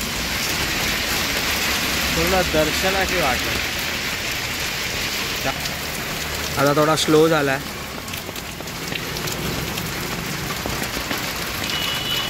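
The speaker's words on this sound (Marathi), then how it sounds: "थांबलो इथे साईडला पावसामुळे." Steady rain hisses throughout in Mumbai during the Ganpati festival, with people talking over it and passing traffic in the background.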